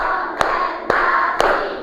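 A classroom of children clapping a rhythmic concentration clap, three sharp, evenly spaced claps standing out over a continuous murmur of voices.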